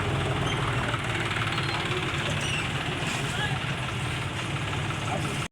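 A John Deere 5310 tractor diesel engine idles steadily nearby, a continuous loud rumble with an even knocking texture and no change in speed until it cuts off at the end.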